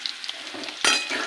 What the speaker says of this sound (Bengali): আলুটা ভেজে নিয়েছি।